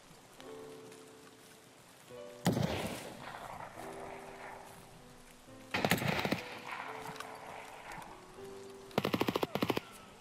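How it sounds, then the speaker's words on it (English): Three loud bursts of automatic gunfire ring out at intervals in Escape from Tarkov, each ending in a brief echo, separated by quiet stretches with faint background noise. "I ended up hearing a lot more gunfire, one of them being an SVD."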